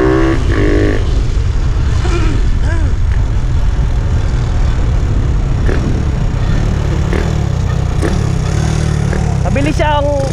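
A Honda XRM 125 dual sport motorcycle with a 57mm setup, a clutch damper and an aftermarket pipe runs loud and close, its engine droning and rising through revs while someone talks over it.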